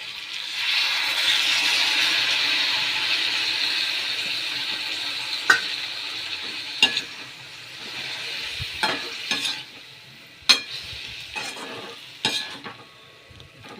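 Sauce is poured into a pan of frying chili mushrooms, bringing a bright, steady sizzle that eases over time, broken by sharp clinks and scrapes of a spoon stirring against the pan.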